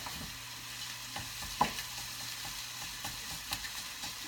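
Sausage fries gently over moderate heat in a pan, a steady close sizzle with occasional soft pops and scrapes.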